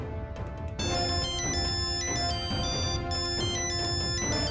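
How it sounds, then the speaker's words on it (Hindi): A phone ringtone plays a repeating electronic melody, loud and close, with no voices over it. "बहुत ही इंपॉर्टेंट फोन आया तुम्हारे लिए"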